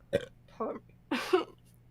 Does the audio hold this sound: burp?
yes